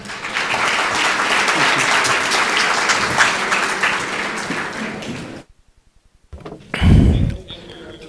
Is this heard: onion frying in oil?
no